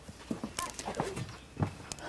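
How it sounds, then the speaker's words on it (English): Horses shifting about in a ranch corral, a few soft hoof thuds and clip-clops scattered through the moment, close by and fairly quiet, with some faint background noise. "Okay, we're gonna go check the horses now."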